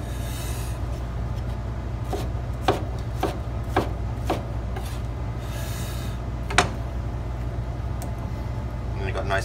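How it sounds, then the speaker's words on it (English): A knife chops a pineapple into cubes on a cutting board, giving a series of sharp, separate cuts at an uneven pace, close and fairly loud above a steady low hum. "you can cut it into cubes for a good snack"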